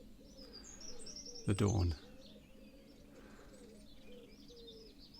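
Birds call outdoors at dawn, with soft chirps and a dove's coo spread steadily over a constant hushed background. A brief voice rises in the middle.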